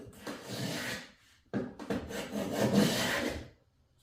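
A freshly sharpened knife blade shaves across wood in two long rasping strokes, close and fairly quiet, separated by a short pause, with no talking.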